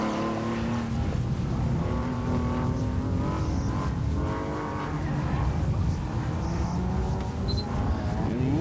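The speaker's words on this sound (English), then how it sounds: "Yellow Lotus Elan." A yellow Lotus Elan runs an autocross course at a national solo event, its engine a steady, distant drone with rising and falling revs under the crowd and venue noise.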